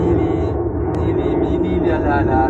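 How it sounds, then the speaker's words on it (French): A loud, steady roar of airplanes flying overhead fills the whole stretch, a broad rumble that neither rises nor fades. "les avions de merde, putain, partout ils me suivent"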